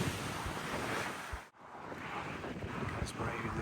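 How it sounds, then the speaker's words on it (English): Strong wind howls along an exposed northern coastline near Keiss, buffeting the microphone in a continuous roar with surf-like rushing, dipping briefly before surging back. "the winds are howling around at the moment"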